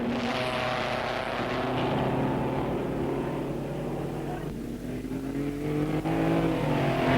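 Vintage racing cars of 1959 lapping the Bathurst circuit at Easter, engines droning steadily and fairly loud with shifting pitch as they pass, continuous over the whole stretch.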